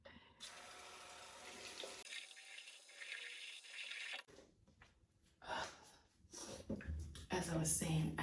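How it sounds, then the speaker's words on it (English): Tap water runs into a sink while someone washes their face, with a steady stream that starts and stops, splashes close by, and some breathing and gasping in between. "Let me wash my face."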